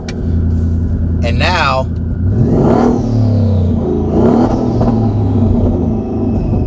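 Ford F-150 pickup with a Hellion twin-turbo sleeper kit and its electric exhaust cutout opened, giving a deep, loud engine rumble and revving close by, with a brief high whistle early on and someone talking over it.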